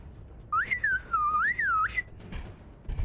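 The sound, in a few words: loud whistle, imitating a failed whistle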